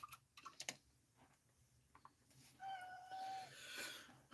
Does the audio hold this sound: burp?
no